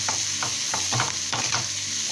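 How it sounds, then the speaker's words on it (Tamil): Chopped onion sautéing in a hot pan, a steady close sizzle broken by several rhythmic scraping bursts as a spoon stirs it, with no voices. "இப்போ இது நல்லா வதங்கட்டும்."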